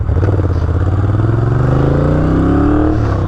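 A Moto Guzzi V7 II Racer twin-cylinder motorcycle engine rumbles loudly up close, its pitch rising steadily as it accelerates along the road.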